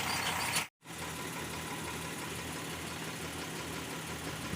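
Tractor engine idling steadily beside a loaded trolley during a rice harvest, a constant low rumble throughout with one brief dropout near the start.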